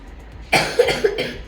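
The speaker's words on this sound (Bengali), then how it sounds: "কি বিচ্ছিরি কাশি দেখেছ" A person coughs close up, a sharp burst followed by two or three rougher hacking coughs after a quiet moment.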